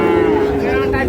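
A Holstein Friesian bull at a cattle market gives one loud, steady, close moo that fills the whole moment.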